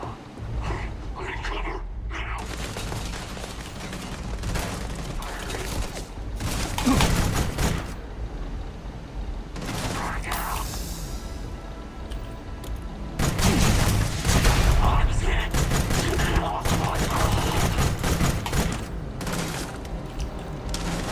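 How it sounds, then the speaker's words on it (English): Starfield combat, with bursts of rapid gunfire and booming shots in heavy fusillades interrupted by quieter stretches, close and loud throughout, with a voice speaking at times. "Who's shooting me?"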